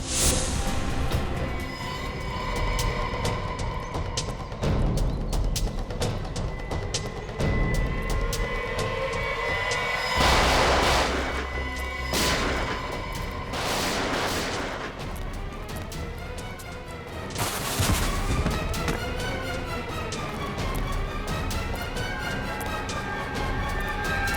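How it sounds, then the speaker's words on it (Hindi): Bursts of gunfire crack out amid loud, chaotic action noise, with heavy booms and tonal sweeps layered over a dense, rumbling background. "हम पे गोलियां चला रहे हैं।"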